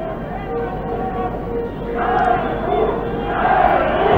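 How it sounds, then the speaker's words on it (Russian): Soviet ice hockey fans in an arena at the 1970 world championship, Sweden against the USSR, chanting in a large rhythmic crowd roar that swells louder partway through, with a commentator talking over it. "Шайбу, шайбу мы слышим"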